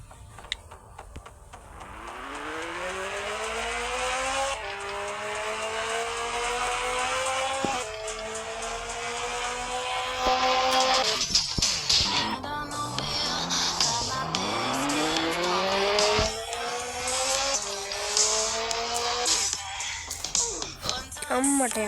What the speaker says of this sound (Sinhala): මේකේ පිකප් වෙනවා මදි බම් මේ බයික් එක